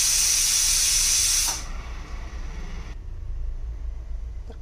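A pressure cooker holding a chickpea curry with hot water gives a loud, steady whistle of escaping steam for about a second and a half, then cuts off abruptly, leaving a quieter low kitchen rumble.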